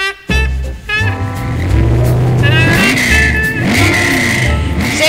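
An old collector's car at a classic car show starts up with a sharp burst, then the engine revs and climbs in pitch again and again, loud and close.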